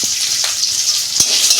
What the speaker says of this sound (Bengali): প্রথমে আমি কপিগুলো ভেজে নেব।